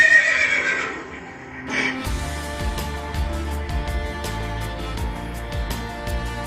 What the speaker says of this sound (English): That's right, it's a horse.